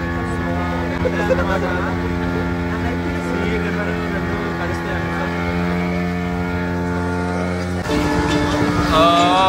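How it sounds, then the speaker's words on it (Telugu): A motorboat engine drones loudly and steadily with a strong harmonic hum, shifting near the end as the boat turns and reverses on a ride through a mangrove forest in Pondicherry; a voice speaks over it. "మావాడు ఫ్లిప్ చేస్తున్నాడు బోట్"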